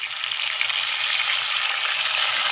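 Onions and tomatoes frying in a pan for kadhi pakora, a steady close hiss and sizzle that holds even throughout, loud and uninterrupted with no voices.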